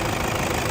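A stock Nissan D40 diesel engine runs with a dense, steady clattering rumble, loud and close, with no voices over it.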